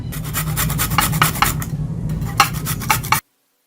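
A peeled potato rasped against a hand grater in a kitchen, with rhythmic scraping strokes in quick bursts, close and fairly loud, pausing briefly midway before a few final strokes and then stopping.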